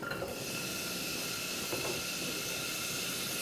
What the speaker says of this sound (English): I'm going to saute this for a good 3 minutes until the onions start to get tender.